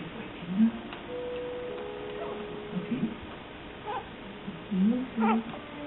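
A 4.5-month-old timneh parrot gives soft, faint, scattered baby squeaks and chirps, short rising calls spaced a second or so apart over a quiet room.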